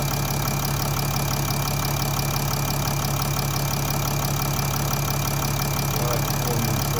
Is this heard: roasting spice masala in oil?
no